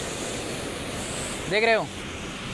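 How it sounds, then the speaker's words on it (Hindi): A stream of flowing water rushes steadily and fairly loudly, with constant broadband noise throughout and a brief spoken question over it near the end. "यहाँ पर बहुत मस्त पानी बह रहा है"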